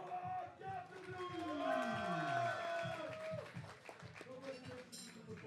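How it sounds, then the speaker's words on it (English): A crowd at a powerlifting meet cheers and yells in a sustained, moderately distant roar with shouts rising and falling, while people talk excitedly over it. "Listen to the crowd."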